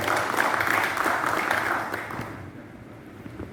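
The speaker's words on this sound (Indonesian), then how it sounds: "Tepuk tangan untuk Bapak Ibu sekalian." Audience applause at an Indonesian organizational gathering, a dense burst of clapping that fades over the last second into quieter room noise.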